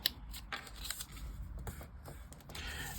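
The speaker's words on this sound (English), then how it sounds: "Then we're going to fold the pink one as well. I'm just going to fold this." Pink paper being folded and creased for a lace doily junk journal page topper, close crinkling and rustling with soft scraping strokes throughout, no talking.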